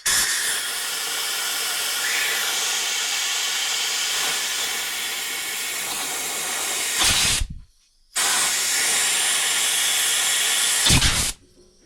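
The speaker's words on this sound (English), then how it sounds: "if you've got an air compressor with one of these little rubber connections on it" An air compressor blows air through a small rubber nozzle fitting. A loud, steady hiss lasts about seven seconds, stops briefly, then a second blast follows.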